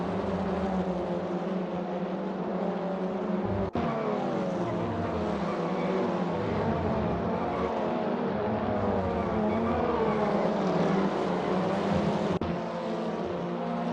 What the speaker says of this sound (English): You can hear the tyres scrabbling for grip.